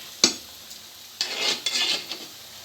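Fish curry, a Thoothukudi-style fish aviyal, being stirred in a pan with a ladle: a sharp metal scrape followed by several soft scraping, sloshing strokes, close and fairly quiet.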